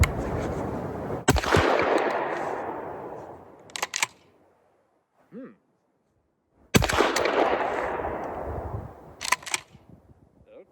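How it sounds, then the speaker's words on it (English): A Girsan MC312 shotgun firing a standard competition load gives sharp, loud reports followed by long echoing decay, in two main bursts with a few clicks and mechanical rattles in between. "Here's the first 4 shots out of the Girsan MC312 with just your standard competition load."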